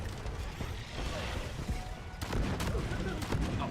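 Sticky grenades detonate in the Deep Rock Galactic video game, a burst of explosive blasts and crackling gunfire that grows louder partway through, with background game sounds throughout.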